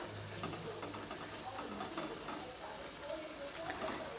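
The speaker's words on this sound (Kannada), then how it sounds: "ಈಗ ಇದನ್ನು ಇದೇ ಥರನೇ ಕೈಯಾಡಿಸ್ತಾ ಇರಿ" Carrot halwa stirred in a pan gives a faint, continuous soft scraping and low sizzle, steady and close but quiet.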